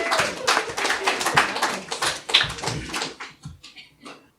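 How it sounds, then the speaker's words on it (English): A live audience at a comedy science-fantasy debate show claps for a few seconds, the applause thinning into scattered final claps as it dies away. "You can applaud."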